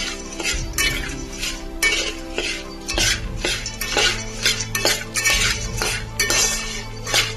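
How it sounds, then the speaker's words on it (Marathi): A spoon scrapes and clinks steadily against a metal pot as turmeric is mixed into the food, busy and close, with a low sizzle running underneath. "त्यामध्ये हळद घालू, ऍड करून मस्त मिक्स करून"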